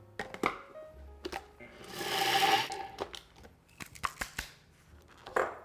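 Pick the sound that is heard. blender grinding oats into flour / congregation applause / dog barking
blender grinding oats into flour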